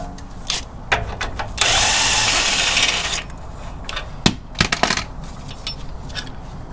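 A power tool zips off a rusted front differential mount bolt on a third-generation 4Runner or first-generation Tacoma, with a loud two-second whir followed by short ratcheting bursts and metallic clinks.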